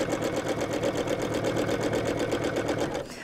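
A sewing machine free-motion quilts with Mettler metallic thread, the needle hammering in a fast, even rhythm at close range before easing off near the end.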